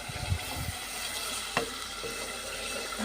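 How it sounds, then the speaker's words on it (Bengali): Fish frying in a pan with mixed vegetables, a steady soft sizzle with a few brief clinks and stirring sounds, close and fairly quiet. "তো এখন এখানে সবজি দিয়ে পাঁচমিশালি সবজি দিয়ে মাছ রান্না করবো।"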